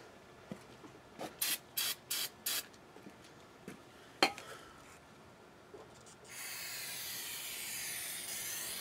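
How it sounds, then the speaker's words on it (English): Brake cleaner sprays from a can onto a front rotor of a 1992-97 Ford F-250, first in several short close hisses, then after a knock a long continuous spray to the end. "so grab your can of brake clean"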